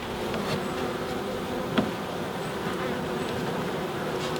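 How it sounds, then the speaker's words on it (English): A captured swarm of honeybees hums inside a hive box, a dense, steady buzzing drone heard close and continuous throughout, with no voices. "So that's another swarm we got."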